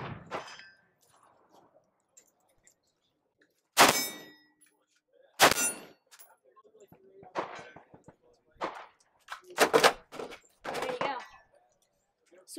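Rifle shots from a Blackwater Ironhorse .223 ring out at an outdoor range, several sharp loud cracks spaced irregularly with metallic clanging from steel targets, and a short spoken remark between them.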